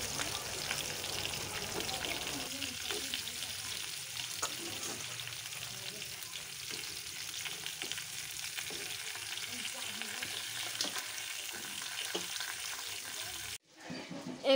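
Pieces of rohu fish frying in hot oil, a continuous bubbling sizzle with light stirring scrapes close by, steady for most of the stretch before a brief cutoff near the end.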